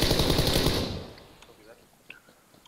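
A loud burst of rapid automatic gunfire in a video game rattles for under a second, then fades into a quiet backdrop with faint distant shots.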